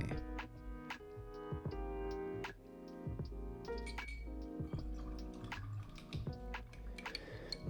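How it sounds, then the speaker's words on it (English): A watercolor paint brush is swished and tapped in a container of water, giving soft, irregular drips and small splashes close by and quiet. "I'm just rinsing off my brush."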